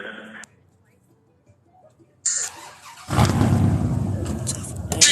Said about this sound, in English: There's another loud truck.